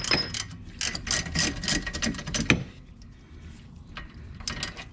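A ratchet wrench loosens a suspension bolt on a Porsche 911 rear suspension, a close series of rapid clicking bursts in quick strokes, pausing midway before a few sparser clicks follow.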